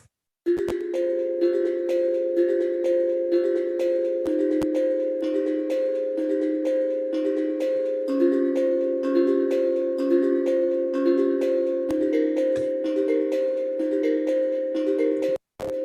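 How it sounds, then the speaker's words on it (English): Pan drum, a tonal steel drum, playing a steady stream of soft ringing melodic notes that overlap into an airy, ambient wash, alone with no voices. "Here is the sound of a pan drum."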